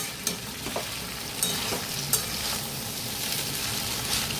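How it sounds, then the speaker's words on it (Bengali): Homemade vegetable noodles fry in a pan after sugar and vinegar have been added, giving a steady close sizzle with a few soft taps and scrapes from stirring. No voices are heard. "এবারে জাস্ট আর কিচ্ছু না, শুধু ভাজা হতে থাকবে।"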